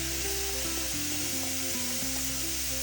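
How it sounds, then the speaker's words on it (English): Onion, celery and carrot sizzling in a hot pan for shepherd's pie, a steady hiss filling the whole stretch at a low level, with a faint tonal hum running underneath and no voices. "Now we're going to add in our vegetables to the pan."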